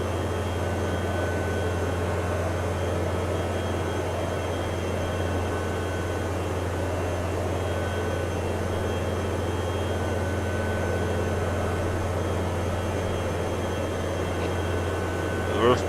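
Steady drone of a powerchute Rascal's engine in flight in Microsoft Flight Simulator 2024, a constant hum with no change in level throughout.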